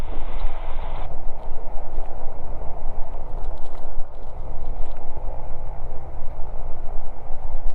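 A helicopter sits on a grass airstrip after landing as its rotor blades wind down, a loud steady low rumble with gusty wind buffeting the microphone throughout.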